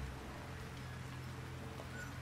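Steady rain in the Unravel Two video game, a constant dense hiss of falling drops spread evenly throughout with no distinct pauses.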